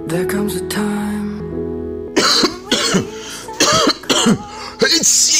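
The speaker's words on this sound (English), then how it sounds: "why sneezing and coughing openly like that?" A steady hum plays first, then several loud, harsh coughs come in quick bursts, close and forceful, each one sharp and separated by brief pauses.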